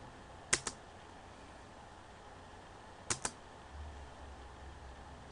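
Keys on a computer keyboard are pressed in two separate quick pairs of sharp clicks, close and alone over faint background hiss, with the space bar tapped to make a sprite jump in Scratch.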